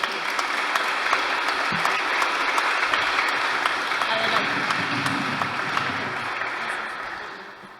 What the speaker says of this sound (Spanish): Un aplauso para Yolanda.